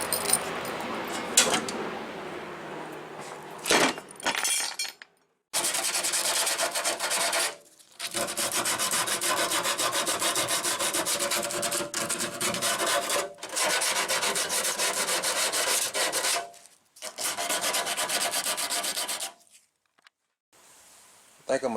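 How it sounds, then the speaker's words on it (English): Hand sanding with 80-grit sandpaper along rough metal edges of a shaved Chevy Silverado OBS shortbed truck tailgate: long, close, raspy strokes in several sustained bursts, broken by short pauses. "We're gonna get some sandpaper, probably some 80 grit, and just clean these rough edges up."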